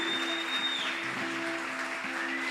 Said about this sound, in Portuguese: Você pode aplaudir a Jesus pela vida da pastora?